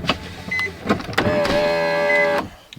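Electric power windows on a 2004 Nissan Maxima whir down in a steady motor hum lasting over a second, preceded by a few short clicks and bumps inside the car.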